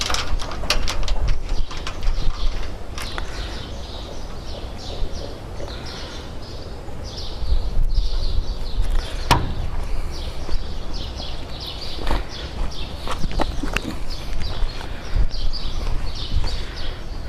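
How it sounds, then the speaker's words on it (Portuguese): Bolts being tightened on an aluminium mounting structure for solar panels, giving repeated close metallic clicks and ratcheting taps in irregular bursts over a steady outdoor background. "E vou fixar aqui o quarto parafuso."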